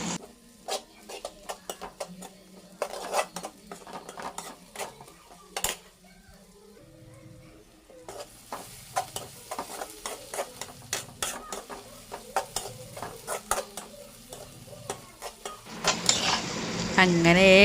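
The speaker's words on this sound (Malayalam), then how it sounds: "ഇനി നമുക്കങ്ങോട്ട് ഇളക്കി അങ്ങോട്ട് കൊടുക്കാം." Beef curry with green chillies is stirred in a pan, giving intermittent scraping and clinking of a spoon against metal over a soft sizzle, quieter at first and busier later.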